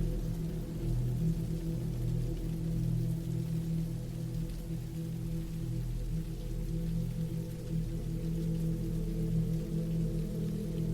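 Steady rain falls without pause, a dense, even hiss with a low rumble beneath it, holding the same level throughout with no voices.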